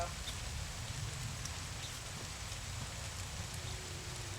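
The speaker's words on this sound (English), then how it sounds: "it's raining here a little bit." Soft, steady patter of light rain fills the background, fine drops ticking faintly and evenly throughout.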